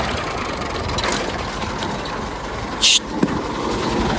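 A tractor-driven mustard oil extraction machine runs with a steady mechanical drone, and a short sharp clank and click sound near the end.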